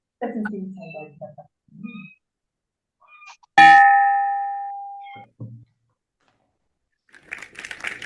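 A single bell is struck once at a Rotary club meeting, a loud clear clang ringing out and decaying over about two seconds, with people talking briefly before and after.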